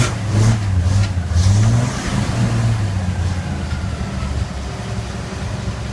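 A 1947 GMC truck engine catching and revving, a couple of rising growls early on before it settles into a steady low idle rumble, close and fairly loud with no talking.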